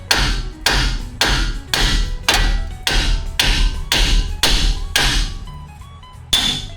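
A hammer strikes a Ram 1500 truck's lower ball joint to break it free. There are about ten loud, sharp, evenly spaced blows close to the mic, each followed by a short ringing decay, and nobody speaks.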